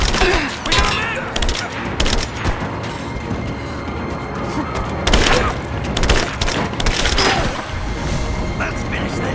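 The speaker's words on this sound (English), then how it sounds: "Throw the grenade!" Gunfire rattles almost nonstop through combat in the video game Rise of the Tomb Raider, with heavy bursts and a thudding grenade-style blast, while shouted voices call out over the chaos.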